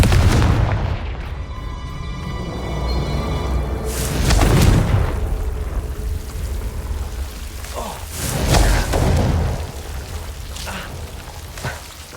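Fiery Confringo spell blasts in the game Hogwarts Legacy land as heavy booming explosions with crackling debris, one big burst early and others following amid a rumbling, rain-like wash of game ambience.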